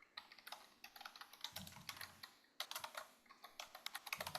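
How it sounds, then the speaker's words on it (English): Rapid typing on a computer keyboard: quick, irregular bursts of light clicks with short pauses, close and quiet, with no voices. "I'm typing too fast"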